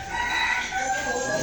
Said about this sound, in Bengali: এই যে বাহামা মুরগি,